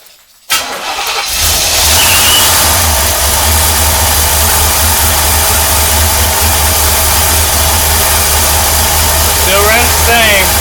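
A 1985 Chevrolet Corvette C4 engine fires up and settles into a loud, close, uneven idle with a rough, throbbing low rumble that continues steadily to the end.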